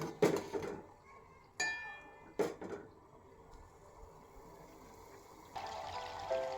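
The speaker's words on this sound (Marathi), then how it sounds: "चहाला मस्त उकळलेले आहे असं हलवून घ्यायचं चमच चमच्याने आपण" A spoon stirs boiling tea with homemade lemongrass in a pot: three sharp metallic clinks close by, separated by quieter stretches, then a soft bubbling swirl at the end.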